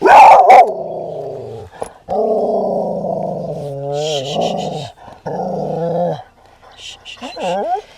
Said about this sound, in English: the other con is that they bark when you make videos